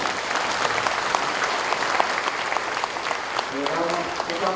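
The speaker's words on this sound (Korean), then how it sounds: "큰 박수로 환영해 주시기 바랍니다." Audience applause welcoming a speaker at a national salvation forum held at the Olympic Parktel, dense steady clapping from a large seated crowd throughout, with a few voices rising faintly near the end.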